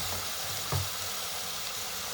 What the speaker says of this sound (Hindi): अब मैं इसके अंदर अपनी जो बॉइल्ड स्पैगेटी है वो डालूँगी।